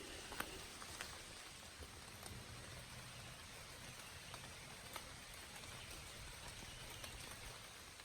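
Steady rain falls outdoors on a work site, a dense even hiss of drops that goes on without a break, with no voices.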